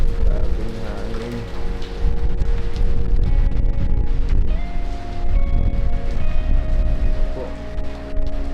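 Strong typhoon wind roars and buffets continuously around a house, with a dense, rushing noise that may carry rain. The wind is loud and close, with gusts pressing against the microphone.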